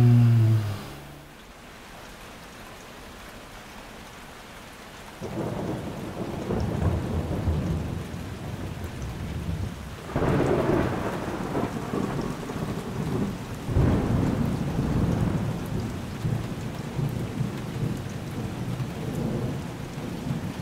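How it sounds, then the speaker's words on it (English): Heavy nighttime rain pours steadily while deep rolling thunder rumbles in several long waves, loud and close, with no voices. "It bucketed it down and the thunder and lightning put on quite the show."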